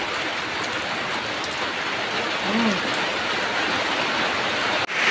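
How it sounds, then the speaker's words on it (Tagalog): Dense, heavy rain pours in a constant hiss, loud and enveloping, with a brief low murmur partway through. "Lakas na naman ng ulan."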